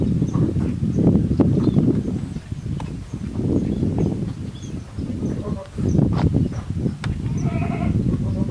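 Goats are turned loose to graze along a fish pond embankment, with a steady, dense outdoor din, occasional bleats, and broad rustling movement throughout.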